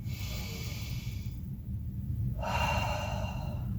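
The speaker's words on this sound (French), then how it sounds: "Et une deuxième grande respiration" A slow, deep exercise breath: a soft airy inhale followed by a longer, stronger exhale, close and alone over low room rumble.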